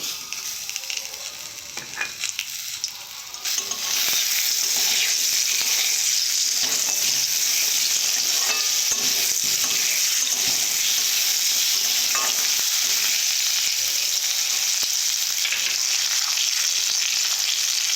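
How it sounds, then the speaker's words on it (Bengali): Mango pieces frying in hot oil after spice tempering, a loud continuous sizzle that starts with a few stirring scrapes and then holds steady and close throughout. "ফোড়ন দেওয়ার পর আমগুলো দেব ভেজে নেব আমগুলো ভালো করে"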